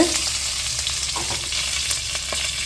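Idli podi seasoning with asafoetida, curry leaves and coriander fries in a pan, a dense steady sizzle and hiss with faint stirring scrapes throughout, close by and without talk.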